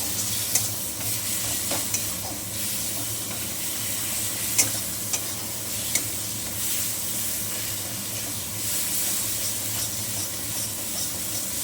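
Pabda fish curry with tomato sautéing in a pan over a medium flame, a soft continuous sizzle with light stirring scrapes and a few sharp clinks of the spoon, close and steady.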